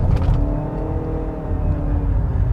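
A 2022 Honda Accord Hybrid engine accelerating, a steady low rumble with a faint whirring hum layered over it, heard close and continuous with no speech.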